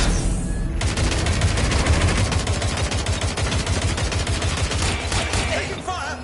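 Sustained automatic gunfire in the Watch Dogs Legion video game: dense, rapid bursts overlapping into a loud continuous fusillade for several seconds, starting abruptly after a brief lull and thinning slightly toward the end.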